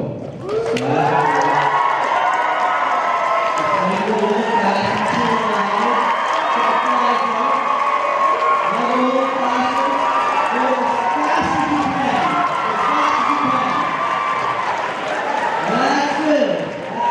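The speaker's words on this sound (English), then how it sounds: "as soon as I say go, you guys can start cheering" A high school crowd cheers loudly and continuously at a rowing demonstration, with excited shouts and whoops rising and falling over a dense, close roar of voices for the whole stretch.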